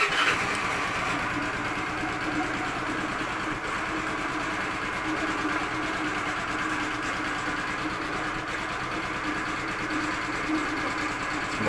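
A Honda Vario Techno 110 scooter engine runs at a steady, even idle nearby, a continuous mid-pitched hum and rattle with no talk over it.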